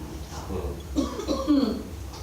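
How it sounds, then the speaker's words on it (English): A person clears their throat and gives a few rough coughs, close by, in short bursts. "I'm about to cough"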